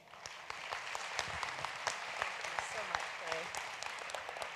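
Applause at a Chamber of Commerce luncheon, moderate clapping from a seated crowd with some sharper individual claps, while a voice speaks over it.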